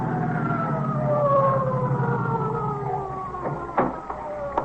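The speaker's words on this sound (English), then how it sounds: "That's either ESC or the ambulance coming now." A distant ambulance siren howls with a long, slowly falling tone, fading somewhat, with a few brief knocks near the end.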